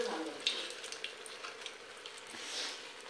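Chillies fry in hot oil with cumin seeds as a steady, moderate sizzle, close by, with small pops and crackles scattered across it.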